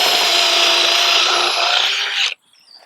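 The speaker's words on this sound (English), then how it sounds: "Come to the center of the hip board and drill another hole" A power drill bores a hole into a wooden hip board while eye bolts are being installed, a loud steady whine running for about two seconds and then cutting off abruptly, with near silence after.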